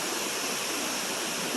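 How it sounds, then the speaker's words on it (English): A waterfall at a natural swimming hole on a sunny day pours in a steady, dense roar of rushing water, continuous and fairly close, with no voices over it. "Waterfall behind me."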